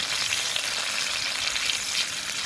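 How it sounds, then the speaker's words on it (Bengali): Onion and whole cumin frying in oil in a wok, a steady close crackling sizzle that holds at an even level throughout with no voices. "বাদামি করে ভেজে নিচ্ছি"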